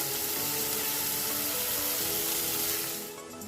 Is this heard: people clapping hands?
no